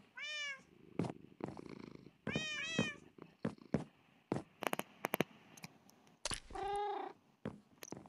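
Cats meow in the Minecraft video game, with three clear, drawn-out meows spread among quick clicks and taps of gameplay.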